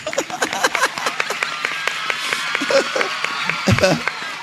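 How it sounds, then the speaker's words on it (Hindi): An audience claps in scattered, uneven bursts under a speaking voice, with the individual hand claps close and fairly soft. "खुशी मारो ताली मारो"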